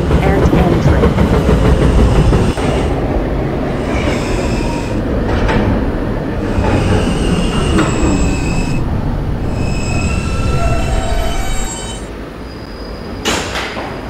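An R160B Alstom subway train on a Q Express run in a Roblox game, heard from on board as a loud continuous rumble with rattling wheel noise and occasional high squeals, easing slightly near the end.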